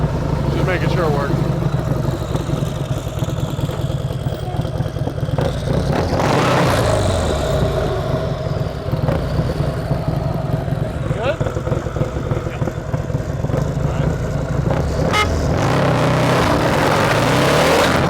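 A turbocharged Harley-Davidson Milwaukee-Eight 124 motorcycle engine runs loud and close, with a continuous rumble and a few sharper rev surges, under scattered voices.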